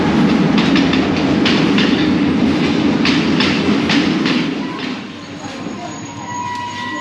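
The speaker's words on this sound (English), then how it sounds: "Soon, the very eco-friendly Colombo Express pulled into the railway station." The Colombo Express, a Sri Lankan train, rolls into a railway station with a loud, steady rumble and rhythmic clickety-clack of wheels that eases and quiets toward the end, with faint whines and squeals above.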